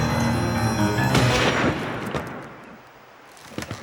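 A single sharp gunshot cracks out and decays over a sustained musical backdrop, with a fainter report following near the end, in an animated adventure scene.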